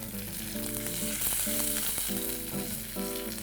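Cumin seeds and curry leaves sizzle in hot oil for a green peas samosa filling, a continuous crackling hiss with soft music playing underneath.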